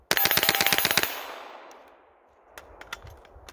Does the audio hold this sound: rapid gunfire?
yes